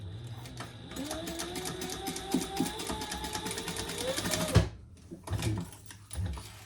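A sewing machine top stitches a zipper onto a handmade Triskele wallet, a close, steady mechanical whir with rapid needle ticking that stops abruptly, followed by a few quieter clicks and handling noises.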